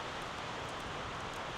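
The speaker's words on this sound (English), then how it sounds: "man, it is windy out here" Wind gusting outdoors on a cold, blustery day, a steady broadband rush buffeting close to the microphone with no voices.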